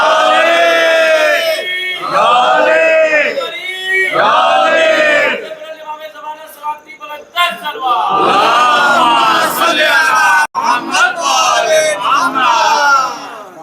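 A large congregation at a majlis chants salawat together in loud, rhythmic unison phrases, with brief pauses and a scattered, noisier stretch midway before the massed chanting resumes.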